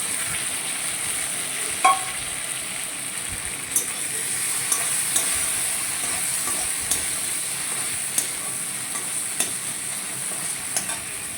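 Poppy seed paste and garam masala being stirred into food frying in a pan: a continuous bright sizzle with scattered clinks and scrapes of a spoon against the pan.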